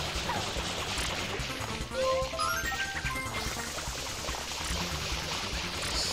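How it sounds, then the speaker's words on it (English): Water splashes and sprays in the Super Mario Sunshine video game, a dense, loud watery wash with a brief splattering burst partway through, continuous under faint game sounds. "It made the sound effect for whenever he splashes on the ground or like marks the ground"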